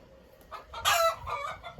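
Marans hens on a small farm cluck and call, soft murmurs building into a louder, brief squawking burst in the middle before settling back to low clucks.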